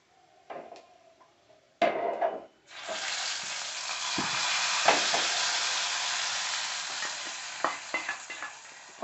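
Moong dal lentils tipped into a hot oil tempering in a pan burst into a steady, loud broadband sizzle after a few light clatters, with scraping stirring strokes continuing over the frying hiss.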